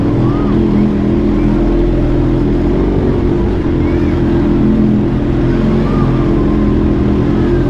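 A Kawasaki Z H2 motorcycle fitted with a new Akrapovic exhaust drones steadily and loudly throughout, a continuous low engine rumble with no talk over it.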